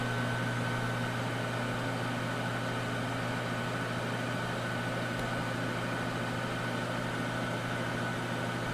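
A 1978 Amana Radarange Touchmatic II microwave oven, a model RR-10 unit that sat unused for about 17 years after a bad control-board capacitor, runs with a steady, close, even hum and broadband whir throughout.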